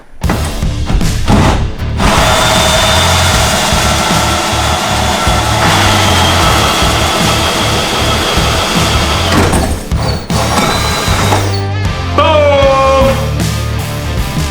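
Hole saws cutting through the hull of a rigged-up bass boat give a loud, continuous power-tool drone that runs almost unbroken, with brief pauses near ten and twelve seconds before the grinding resumes.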